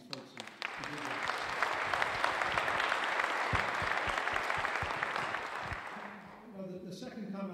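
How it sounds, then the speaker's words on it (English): Audience applause for entrepreneurs after a round of elevator pitches at an event, dense steady clapping filling the room for about six seconds before thinning out, with a voice resuming near the end. "please give a round of applause to these folks who did that"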